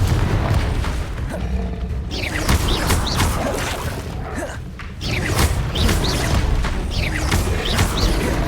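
Confringo blasting curse explosions in the video game Hogwarts Legacy, loud booming bursts and crashes layered over continuous game music and effects, with several impacts spread across the stretch.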